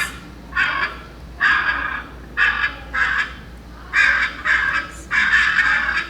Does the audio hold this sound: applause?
no